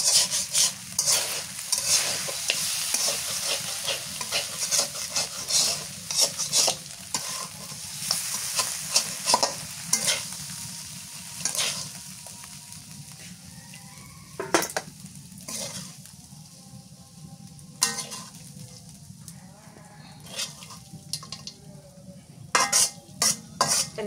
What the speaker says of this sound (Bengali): মাছটা ভাজি হয়ে গেছে, একদম ভাঙ্গা ভাঙ্গা করে ভাজছি